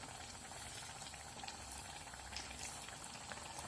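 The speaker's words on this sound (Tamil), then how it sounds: "ஊற்றுன உடனே நல்லா எழும்பி பொசுன்னு வருது பாருங்கள்" Madurai-style kara bonda batter fries in hot oil over a medium flame, giving a continuous soft bubbling sizzle at low volume with no talking.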